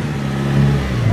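Turbocharged widebody Toyota 86 accelerating, a steady mid-pitched engine drone that rises slightly in pitch over about a second, close and fairly loud.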